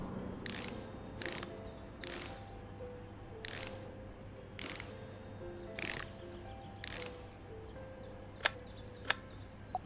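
Electric screwdriver driving screws in the Electrician Simulator game, heard as a series of short whirring bursts spaced about a second apart, followed by a few sharp clicks near the end, with no talking.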